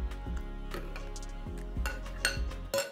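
A spoon scraping and stirring milk and custard in a metal pot while making kulfi, with repeated clinking and knocking strokes against the pot's sides at a steady rhythm, close and fairly loud.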